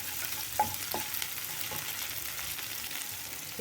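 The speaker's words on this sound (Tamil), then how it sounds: "இஞ்சி பூண்டு பேஸ்ட்டு நல்லா எண்ணெயில் எடுத்தோம் பச்சை வாசனை போக வறுத்துக்கலாம்" Ginger garlic paste fries in oil with a constant soft sizzle while a utensil scrapes and stirs it in a few light strokes, and nobody speaks.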